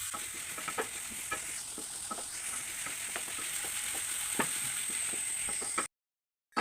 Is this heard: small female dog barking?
no